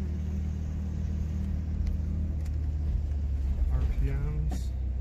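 Toyota 4Runner being brought back to life and driving uphill, a steady low engine rumble with road noise throughout, heard from inside the cab, while someone talks over it.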